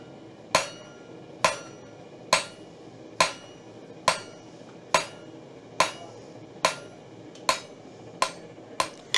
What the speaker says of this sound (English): To draw this out, I want to use the peen across the piece of metal so that it draws it out lengthwise.